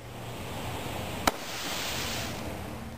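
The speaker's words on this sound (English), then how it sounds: "Mines are devices that fire their fireworks out of the ground as opposed to up" A firework mine fires out of the ground in a single sharp pop from moderate distance, set against a steady outdoor hiss with no voices.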